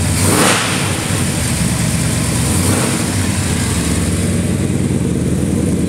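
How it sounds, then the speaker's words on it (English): A 1970 Chevrolet Chevelle SS V8 engine rumbles loudly on a cold start and revs up sharply near the start, then settles into a steady, throaty idle close by. "Gonna give you a quick cold start of our 70 Chevelle SS"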